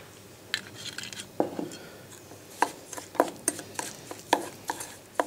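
A sunflower oil spice paste for rotisserie chicken is mixed in a bowl, with close clinks and taps of a utensil against the side in an irregular rhythm over a faint steady background, no voices.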